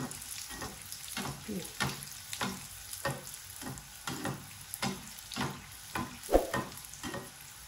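Food frying in oil is turned with a utensil, producing a close sizzle under a steady rhythm of scraping stirs roughly every half second, with one louder knock near the end.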